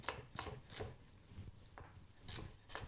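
Vegetables are chopped on a cutting board for a ribollita soup base, giving a handful of soft, close knife taps in an uneven rhythm, very quiet overall with no talking.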